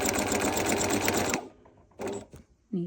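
A Bernina 1000 Special sewing machine stitching the bottom bar tack of a buttonhole, a loud close run of rapid rhythmic stitching that stops abruptly, followed by two shorter bursts with quiet gaps between.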